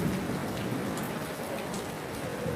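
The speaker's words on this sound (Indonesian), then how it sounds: "hujan lebat" Heavy rain pours steadily onto surfaces, a dense continuous hiss with scattered louder drops, constant and fairly soft throughout with no voices.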